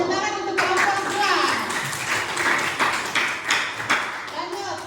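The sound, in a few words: classroom applause for group 2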